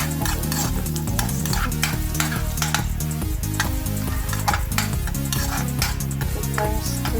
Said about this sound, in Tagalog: Dito sa kawali ay lutuin ko muna itong bawang hanggang mag-red.